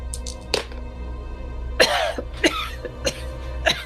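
A voice imitates a character coughing and choking on blood during a tabletop role-playing game, giving a series of harsh, wet coughs and throat-clearing bursts spaced irregularly, close and fairly loud.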